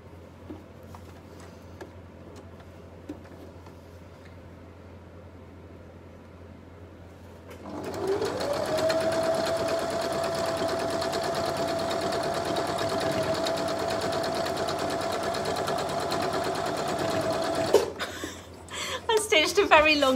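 A sewing machine runs steadily for about ten seconds, stitching a pinwheel quilt block with right sides of the fabric together, after quieter room sound with faint speech, then stops with handling noise.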